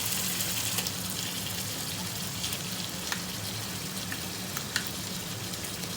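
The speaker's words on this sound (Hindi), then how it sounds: "अब इसको मज़ीद भूनेंगे हम ज़रा।" Lamb mince with yogurt and capsicum sizzles steadily in a pan, a constant crackling fry with occasional spoon scrapes and small pops, moderately quiet and without talk.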